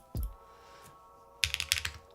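Keys being pressed on a newly built Athena 65 mechanical keyboard: a soft tap, then a rapid cluster of crisp clacks close up, fairly quiet with no talking.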